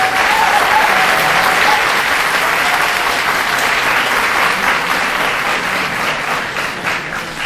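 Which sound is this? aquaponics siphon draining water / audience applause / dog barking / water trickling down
audience applause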